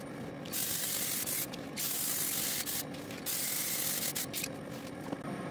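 Aerosol spray paint can laying down a first coat, a close hissing spray in several long bursts separated by short pauses.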